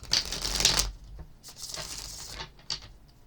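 Tarot cards from a Mystic Moon Twin Flame Journey deck being shuffled close up, quick riffling bursts separated by brief pauses, soft and papery, with no talk.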